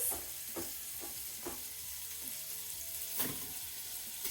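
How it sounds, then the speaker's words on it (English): Chopped diced onion stirred into crisping bacon in an Instant Pot: a steady low sizzle with several distinct scraping stirs spaced through it, close and moderately loud, no talking. "I'm just gonna give that a little stir"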